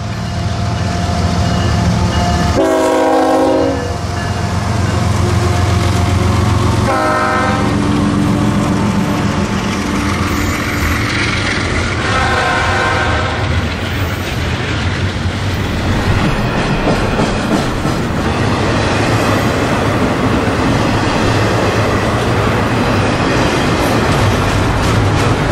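Q025, a long double-stack freight train out of Chicago, rolls past loudly and close, with continuous rumbling, rhythmic wheel clatter and brief whistling squeals.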